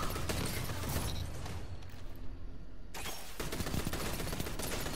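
A grenade launcher fires in a video game: a dense run of sharp, loud blasts and crackling bursts, a brief dip near the middle, then more rapid impacts, all close and without talk.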